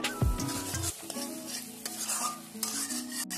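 Spices stir-fried in a pan for egg curry: a continuous sizzle with stirring scrapes, a brief louder burst at the start, all under steady background music.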